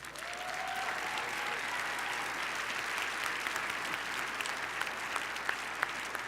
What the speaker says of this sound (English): Emily, please stand up as we applaud you.